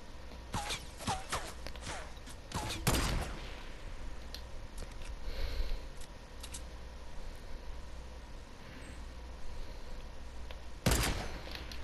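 Gunfire in the video game Fortnite: a few sharp shots near the start, then a longer lull and one more crack near the end, set against a steady game background with no talking.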